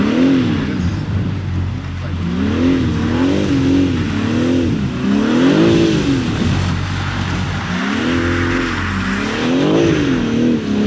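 A drifting car's engine revs loudly and close in repeated rising-and-falling sweeps, holding sideways with sustained throttle blips across the whole stretch.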